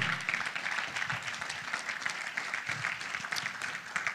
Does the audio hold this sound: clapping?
yes